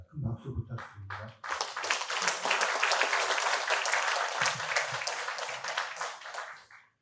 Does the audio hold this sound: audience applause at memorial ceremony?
yes